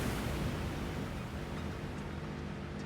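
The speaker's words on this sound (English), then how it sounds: "Oh no, there's a waterfall." A waterfall in a video game gives a continuous dense roar of rushing water, steady and fairly loud from start to finish, with no voices.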